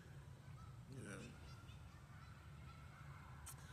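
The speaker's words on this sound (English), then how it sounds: "There's a lot of geese over here." Geese honking near a library, faint calls breaking out around one second in and again briefly near the end, distant over a steady low background rumble.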